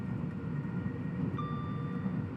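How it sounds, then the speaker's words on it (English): A Class 802 train passes in Train Sim World 6, heard as a steady, fairly loud low rumble of rolling wheels and motors, with a thin whine rising partway through. "There's the other train. Another 802."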